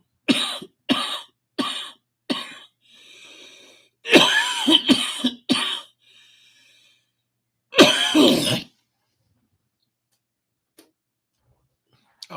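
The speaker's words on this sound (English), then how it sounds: "I apologize in advance for the coughing and hacking" A series of harsh coughs and throat clearing in short bursts, some isolated and some clustered, close and loud, with silence between.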